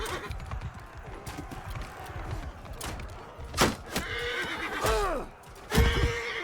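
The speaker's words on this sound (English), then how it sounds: "Oh, there goes my horse." A horse neighs loudly twice in Mount & Blade II: Bannerlord, with descending whinnies near the end, over a constant battle din of clattering hooves and thuds during a fight with archers and crossbowmen.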